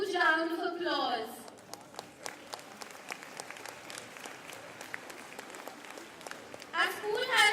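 A school audience applauds at a ceremony, a patter of scattered clapping between two stretches of a voice speaking over a sound system.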